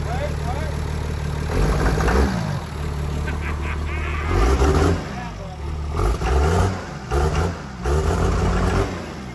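An engine on a burnout rig chassis is revved in several short throttle blips over a low idle, each rise and fall distinct and close, with someone talking between revs.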